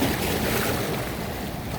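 Sea waves at a shallow beachside hotel wash and break close by, a continuous loud roar of surf mixed with wind buffeting the microphone.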